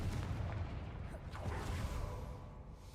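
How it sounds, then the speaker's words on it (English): A Confringo fire spell explodes in Hogwarts Legacy while the player works to open a gate, producing a dense, rumbling blast with a continuous low boom that fills the whole moment. "Confringo."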